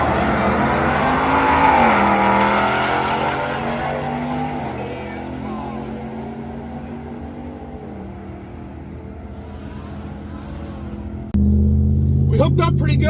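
A supercharged Ford F-150 and a Whipple-supercharged Ram truck drag race, their engines roaring loud and rising through gear changes, fading into the distance, then a sudden loud burst of engine noise nearby near the end.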